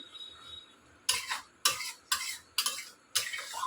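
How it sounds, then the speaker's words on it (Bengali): A spoon scrapes and stirs curry in a pan after hot water is added, in five distinct bursts of clinking and swishing, close and fairly loud. "গরম জলটা দিয়ে এবার একটু নাড়িয়ে চাড়িয়ে"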